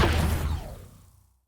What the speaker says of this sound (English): We have a laser kind of sci-fi sound